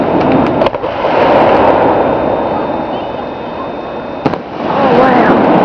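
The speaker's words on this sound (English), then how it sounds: "Oh, wow. I love fireworks." Fireworks burst directly overhead, loud and close, with a dense crackling roar and a couple of sharp bangs, while a few voices react under the noise.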